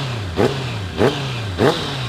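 A 2019 Honda CBR650R with around 18,000 km revs three times in quick succession. Each throttle blip rises sharply and falls back fast to a steady, smooth idle.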